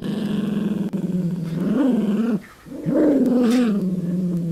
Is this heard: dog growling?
yes